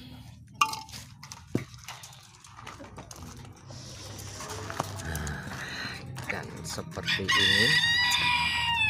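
Green junglefowl at feeding time, with a sharp crow and clucking calls that grow busier and denser toward the end, mixed with scattered feeding noises and a brief voice speaking nearby.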